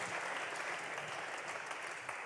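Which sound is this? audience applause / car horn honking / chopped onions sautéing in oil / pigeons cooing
audience applause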